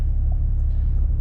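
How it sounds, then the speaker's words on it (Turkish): Porsche 992 Cabriolet with its sports exhaust opened, settling into a steady, loud low engine rumble at idle that holds evenly throughout, with no talk over it. "Egzozumuzu açalım."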